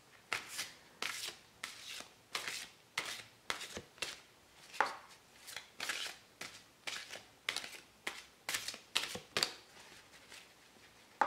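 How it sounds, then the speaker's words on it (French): Oracle cards shuffled by hand in quick rhythmic bursts, about twenty crisp riffling swishes in a steady pulse, close and fairly quiet with short gaps between each. "Je vais quand même les mélanger un petit peu."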